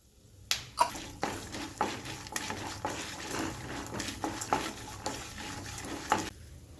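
Chana dal, peanuts and sesame seeds being roasted in a pan, with a soft sizzle under repeated scraping strokes of a spatula. A sharp clink starts it off, and it stops abruptly at the end.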